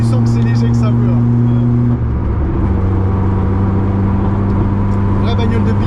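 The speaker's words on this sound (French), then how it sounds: "Vraie bagnole de piste." A Peugeot 106 S16 track car engine drones loudly and steadily at close range, its low hum shifting midway as it revs, with voices talking over it.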